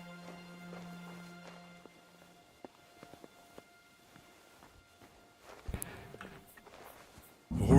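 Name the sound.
horses' hooves clip-clopping, video game Kingdom Come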